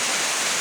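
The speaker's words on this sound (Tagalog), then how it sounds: "malakas po no, yung ulan ngayon dito sa amin" Heavy rain pours steadily over a farm, a dense, even broadband hiss with no breaks, loud and close, and no voices over it.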